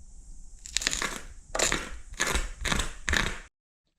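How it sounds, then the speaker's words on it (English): Motorcycle muffler from a BMW K100 cafe racer being ripped open on a kitchen table, giving five loud harsh crunching, tearing bursts in a steady rhythm, close up with no talk. "we have a muffler. Let's rip her open."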